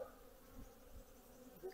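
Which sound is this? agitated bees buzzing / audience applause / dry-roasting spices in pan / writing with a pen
agitated bees buzzing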